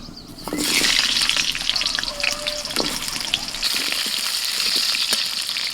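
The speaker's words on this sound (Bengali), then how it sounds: "এবার তেলের মধ্যে দিয়ে দিচ্ছি আলু" Potatoes tossed into hot oil with a little turmeric for a Bengali shukto burst into a loud, close sizzle that swells suddenly and then holds as a dense, crackling fry with faint stirring.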